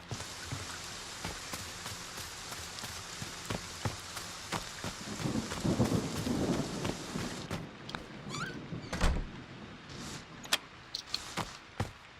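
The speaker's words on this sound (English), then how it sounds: "Those rain sound effects really want to leak in, don't they?" Continuous video game rain patter from Friday the 13th: The Game, with scattered sharp drops and knocks, swelling to a heavier thunder rumble midway, then thinning out.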